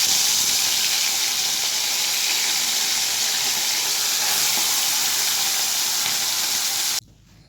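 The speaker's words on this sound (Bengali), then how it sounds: "সর্ষের তেল গরম করে নেব একটি কড়াইতে, আর এই গরম তেলে মাছ আমি ভেজে উঠিয়ে নেব।" Amudi fish fries in hot mustard oil in a wok, a loud, steady hiss of sizzling that runs continuously for about seven seconds, then cuts off abruptly, leaving near quiet.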